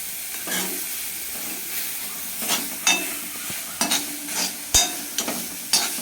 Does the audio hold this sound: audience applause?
no